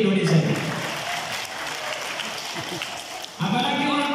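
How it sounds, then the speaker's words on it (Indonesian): An audience breaks into applause during a stand-up comedy routine, a broad, steady wash of clapping that runs for a few seconds before a voice comes back in over it. "Tepuk tangan untuk Indonesia."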